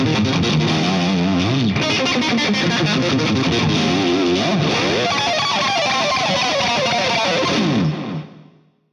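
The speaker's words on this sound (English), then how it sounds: "here is the clips with the valve charger on" Electric guitar played through a Rocktron Valve Charger pedal giving a smooth, mild overdrive, a dense sustained riff with chords and runs filling the clip at steady loudness before a quick fade at the end.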